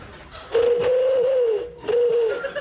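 A man imitates a wood pigeon's call with a soft whistled, cooing tone, one drawn-out phrase followed by a shorter second one, heard close over faint room murmur.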